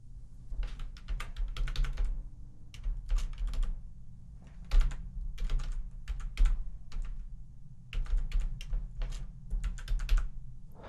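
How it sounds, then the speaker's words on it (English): Typing on a computer keyboard, close and clear, with bursts of rapid key clicks separated by short pauses and occasional heavier thunks, without speech. "type in the full address of the proxy along with the port"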